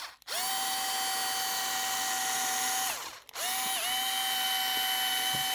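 A power drill bores into the wing mount of an Arrma Big Rock 3S RC car with a close, loud, steady whine. It runs for about three seconds, stops briefly, then runs again for about two more seconds. No one speaks.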